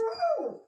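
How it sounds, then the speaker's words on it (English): A dog lets out a single short, wavering howl that slides downward in pitch, close and clear, with no talking over it. "Sorry, that's my dog."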